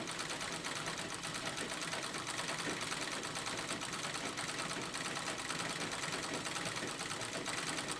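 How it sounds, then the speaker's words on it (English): A sewing machine stitching dense quilting through white denim runs in a steady, continuous rapid whir with no pauses, close by and at moderate volume. "Now I'm quilting this way more heavily than you would normally quilt"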